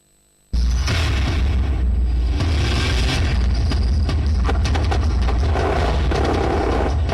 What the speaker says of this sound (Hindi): रेगिस्तान के सन्नाटे को तोड़ती बोफोर्स से निकले गोलों की आवाज